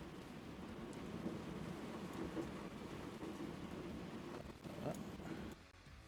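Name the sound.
loud rain noise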